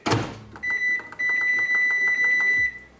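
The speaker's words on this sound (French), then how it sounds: "ça va mettre au micro-ondes 10 minutes." A microwave oven is set to cook potatoes for ten minutes: a quick rattle, a few short button beeps, then a steady electronic tone with a hum running for about two seconds.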